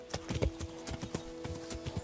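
Rhythmic clip-clop of horse hooves at a steady trot in the video game Kingdom Come: Deliverance, fairly close and moderately loud, with a faint steady hum underneath.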